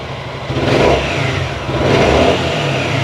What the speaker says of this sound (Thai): เดี๋ยวเราลองเร่งเครื่องกันสักนิดหนึ่ง